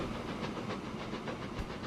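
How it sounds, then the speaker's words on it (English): A freight train rolls past in a city-building video game set in Manchester, heard as a steady, faint rumbling hiss with soft rhythmic clatter that carries on without a break. "You get to see our freight train come through at the same time."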